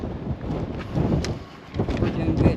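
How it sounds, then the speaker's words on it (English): Strong wind at Old Fort Niagara buffets the microphone in loud, uneven gusts, with voices speaking underneath. "It's really windy."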